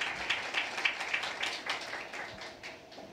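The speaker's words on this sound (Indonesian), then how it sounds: "Berikan tepuk tangan yang meriah buat Tuhan." A church congregation at a resurrection worship service breaks into applause, a steady run of fairly close handclaps with a loose rhythm that continues for a few seconds before thinning out slightly.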